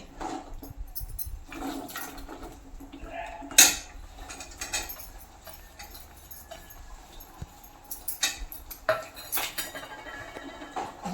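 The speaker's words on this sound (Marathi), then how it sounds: "आता मी काजू टाकते" Fresh wet cashews go into a simmering Konkan-style curry in a pot and are stirred with a utensil, giving intermittent clinks, scrapes and light clatter of metal against the pot at moderate, close range, with no talking.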